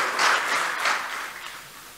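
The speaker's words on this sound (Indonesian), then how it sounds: "Tepuk tangan untuk Presiden kita Bapak Joko Widodo." A short burst of crowd applause for the Indonesian president at a public gathering, a soft wash of many hands that swells briefly and then fades, moderately loud and fairly distant.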